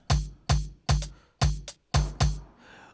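Amapiano percussion samples played in FL Studio pattern mode: six punchy, close hits with deep pitched bodies and bright attacks in an uneven groove, the last two close together, then a soft decaying tail.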